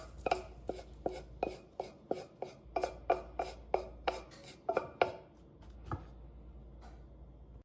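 Browned ground beef dumped from a pan onto zucchini on a kitchen counter for a keto zucchini beef casserole, heard as a run of about fifteen sharp, close scraping taps, like a utensil knocking the pan, then a last lone knock.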